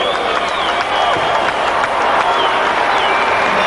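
A partisan crowd at the 1991 World Gymnastics Championships men's team optionals applauds a gymnast, giving a steady wash of clapping and cheering mixed with commentary.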